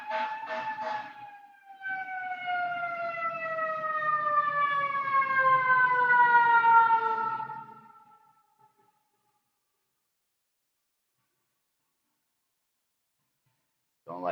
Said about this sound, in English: You guys don't mind the ambulances and the cops.